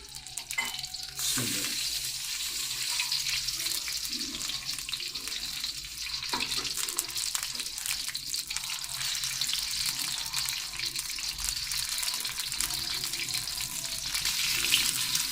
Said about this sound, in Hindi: ऑयल को गर्म करके उसके अंदर डालना शुरू कर देना गोश्त